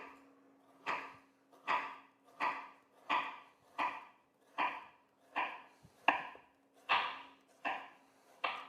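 A knife cuts firm, chilled shortbread dough into 1 cm slices, giving about a dozen evenly spaced, crisp thuds against a board in a steady rhythm, close and clear.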